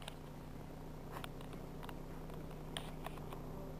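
A cat purrs faintly and steadily for a few seconds, a low continuous rumble with a few soft clicks and rustles over it. No one speaks.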